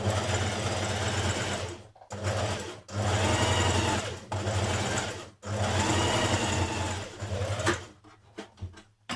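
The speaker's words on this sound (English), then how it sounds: "So just a few millimetres away from the neck edge, do your line of stay stitching." Sewing machine running steady bursts of stay stitching a few millimetres from the front neck edge of an unlined Simplicity 8554 coat, loud and close with several brief pauses between runs and a low motor hum throughout.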